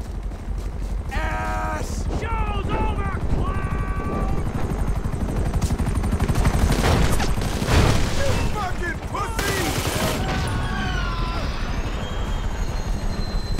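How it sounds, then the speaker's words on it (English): In a GTA Online heist, a helicopter approaches with a loud, whirring rotor chop, mixed with bursts of gunfire and game character voices. "They got another chopper coming in?"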